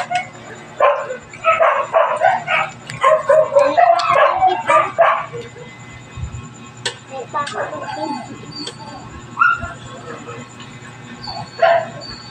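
Several dogs barking and yipping in quick bursts, loud and close, busiest at the start then thinning to scattered barks and whimpers, with a steady background hum.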